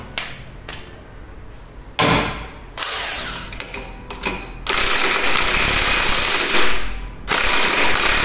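A ratchet works loose the front variator nut on a Yamaha NMax 125 scooter, giving close, clicking mechanical bursts and clunks that grow into a sustained rattling whirr in the latter half.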